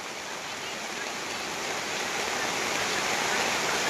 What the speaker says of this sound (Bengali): এখন প্রচণ্ড পরিমাণে বৃষ্টি।